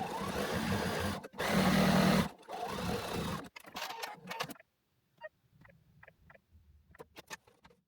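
A sewing machine quilting an advent fabric panel runs in steady whirring bursts, stopping and restarting, then gives way to quieter short clicks and taps of the machine.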